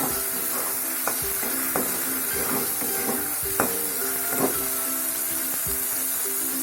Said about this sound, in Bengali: টমেটো পেঁয়াজের কষা কষা হয়ে গেলে